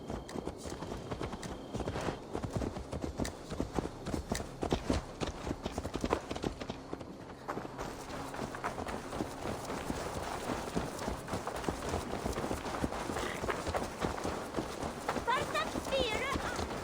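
Horse hooves clip-clop steadily in a Norse-themed video game, the regular beats running under constant background sound and people talking throughout.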